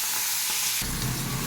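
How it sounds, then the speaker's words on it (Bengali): Shrimp and chopped shrimp heads fry in hot oil, giving a steady close sizzle that jumps louder and fuller partway through, with no voices. "এদিকে আমি ওই চিংড়ি মাছ আর চিংড়ি মাছের মাথা কাটাকে ভেজে নিচ্ছি আগে।"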